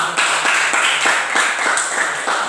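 A group applauds during a math lesson, giving a brief burst of steady, fairly loud clapping with regular overlapping claps and no talking.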